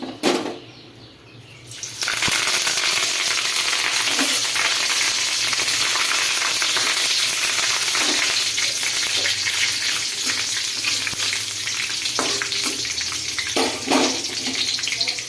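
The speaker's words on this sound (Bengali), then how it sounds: "তো চলো কারি পাতাগুলো আমি তেলের মধ্যে দিয়ে দিই" Curry leaves hit hot white oil in a wok for a mixed veg pulao, bursting into a loud, steady, hissing sizzle that fills the whole stretch after a brief quieter moment, with occasional faint scrapes.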